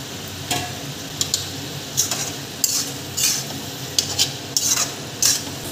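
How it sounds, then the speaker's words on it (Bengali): Cabbage and potatoes fry in a pan over a high gas flame, with a steady sizzle broken by repeated sharp scrapes and clinks of a spatula stirring the pan. "এবার বাঁধাকপিটা আমি একটু ভেজে নেব। গ্যাসের ফ্লেমটা একটু জোরে দিয়ে ভেজে নেব।"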